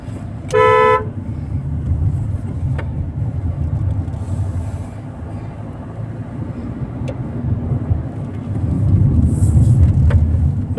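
A car horn gives one short, loud toot before a winding bend on a road trip toward Goa, followed by a steady engine and road rumble that swells louder near the end, with no voices.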